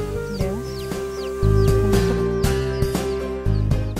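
A four-legged chick peeps and clucks in short, repeated high calls, close and fairly clear, over a steady background of music.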